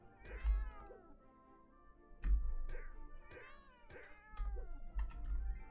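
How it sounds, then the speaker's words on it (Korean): A cat meows repeatedly in MapleStory, several drawn-out, wavering calls with a fierce, caterwauling edge, mixed with keyboard typing and mouse clicks from the player. "야옹이다."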